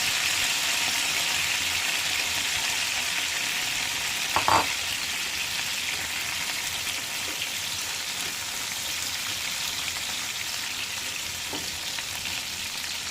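Pork steak returned to a pan fries with a continuous, moderate sizzle, with one brief clatter partway through and no talking.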